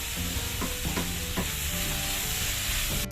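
Sliced onions with salt frying in a pan for a soya chunks roast. A dense, loud sizzle fills the sound, with a few brief spatula scrapes near the start and a faint steady tone behind it. No one speaks.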